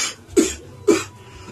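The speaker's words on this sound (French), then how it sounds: "Ne me stigmatise pas parce que je tousse." Three sharp, close coughs from one person, evenly spaced about half a second apart, dry and abrupt, with no talking around them.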